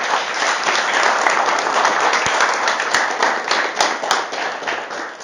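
A church congregation claps together in a warm, sustained round of applause, dense and steady at first and then thinning and fading toward the end, with a few sharp taps standing out.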